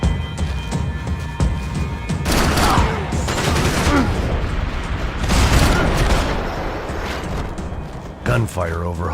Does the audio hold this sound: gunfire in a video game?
yes